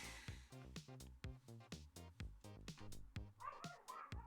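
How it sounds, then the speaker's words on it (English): A neighbor's dog barks in a rapid repeating series of sharp, tonal yips and barks, fairly faint and somewhat distant, with a few whimpering notes near the end. "Oh, that's the neighbor's dog."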